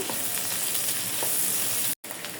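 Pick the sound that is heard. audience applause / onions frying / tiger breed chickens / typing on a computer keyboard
onions frying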